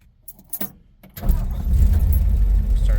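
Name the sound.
1956 Ford Fairlane engine starting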